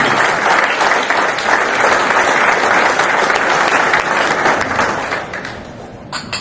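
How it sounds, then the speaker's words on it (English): A hall of fame ceremony audience gives sustained, loud applause, an even wall of clapping that tapers slightly near the end. "Let's give everyone here a round of applause."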